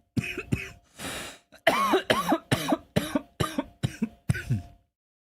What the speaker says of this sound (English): a very delayed cough